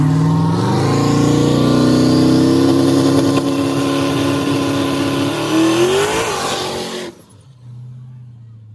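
A powerful street car, dyno-tuned, revs hard on a driveway hit. The engine pitch climbs in a long, loud, close roar, then cuts off sharply into a low idle.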